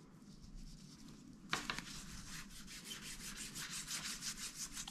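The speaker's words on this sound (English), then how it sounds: "the first and most important job is to fully clean the area with one of these alcohol wipes" An alcohol wipe rubbing over Hilleberg Soulo tent fabric before a patch repair, with soft close rhythmic scrubbing strokes that grow steadier and louder after a sharper contact partway through.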